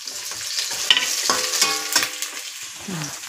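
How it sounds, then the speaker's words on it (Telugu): Onions frying in a pan with green chillies, a steady loud sizzle broken by a few scraping stirs from a spoon. "ఉల్లిగడ్డలు వేగిపోయాయి ఫ్రెండ్స్"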